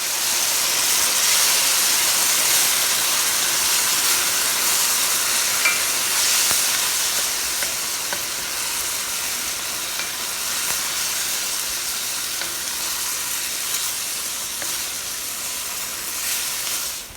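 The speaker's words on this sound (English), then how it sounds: "To this, I'm going to add the tomatoes." Tomatoes hit a hot Le Creuset pot for a chipotle black bean soup and sizzle with a loud, steady broadband hiss that fades slightly over about seventeen seconds, with faint stirring clicks.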